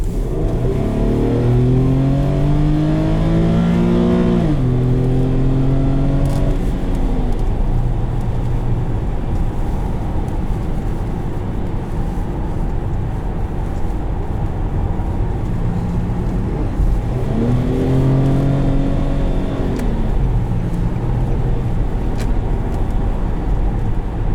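A 2013 Infiniti EX37 SUV engine revs twice toward a high redline, each rise climbing sharply in pitch before dropping back, with a steady idle and road drone between the two pulls and no talking.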